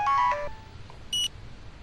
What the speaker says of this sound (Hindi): लगता है डैड का फोन आ गया